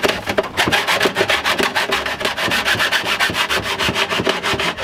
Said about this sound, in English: I'm going to use a saw.